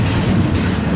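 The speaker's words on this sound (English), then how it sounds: "And the train's passing us right now, which is fitting." A train passing close by while railfanning near Calgary, Alberta, a loud steady rumble of rolling railcars with a dense low roar and faint wheel clatter throughout.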